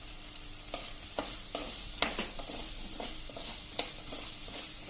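A spoon stirs sugar into boiled-down, scorched milk in a pan while making thabdi peda, with irregular scraping clinks over a steady bubbling sizzle, close and fairly quiet.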